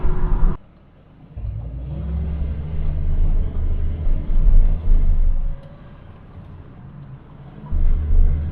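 Engine of a Triumph 2500 automatic under way on the road, a deep, lusty rumble that swells and fades as it accelerates and eases off, heard from inside the car with no talking.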